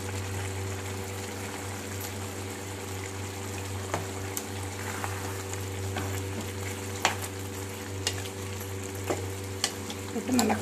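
Homemade chili powder being stirred into food frying in a pan with released water, a low steady sizzle broken by occasional scrapes and clicks of the spoon, with a constant low hum beneath.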